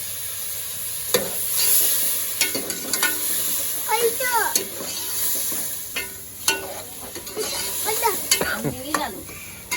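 Masala sizzles in a pan while a utensil stirs it, giving scraping strokes and crackling over a constant hiss, with voices talking at intervals.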